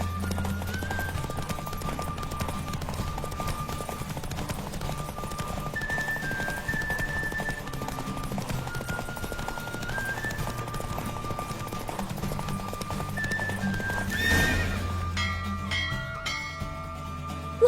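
Horse galloping in a race in The Witcher 3: Wild Hunt, with steady rhythmic hoofbeats under game music and ambience, ending with a brief swell of noise.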